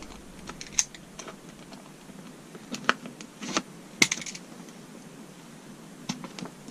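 Fablon sticky-back plastic being cut at a corner, giving faint, scattered crisp snips and ticks, a few of them sharper, over a quiet background.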